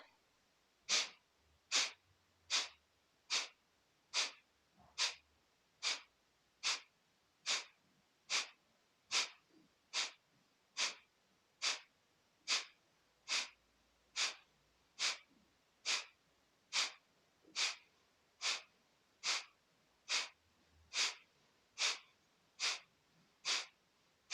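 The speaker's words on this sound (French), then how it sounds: "On inspire." Rhythmic, forceful breaths repeat steadily around once a second during a yoga breathing exercise, about two dozen in a row, close and even, with no talk over them.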